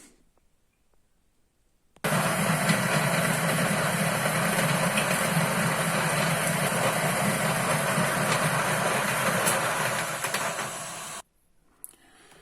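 A Niche coffee grinder grinding espresso beans, a loud continuous whirring drone starting abruptly and running for about nine seconds before cutting off, with no speech.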